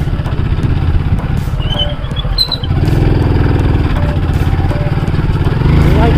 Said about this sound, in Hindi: बाइक मेरी जो है वो बिसलिंग कर रही है।